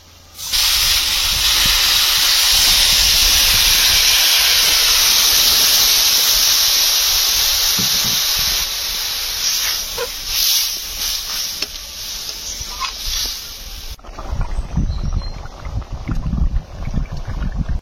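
Water poured into a hot pan of small crab and potato curry sets off a loud, dense sizzling hiss that holds strongly for several seconds, then eases into quieter, uneven bubbling and clatter.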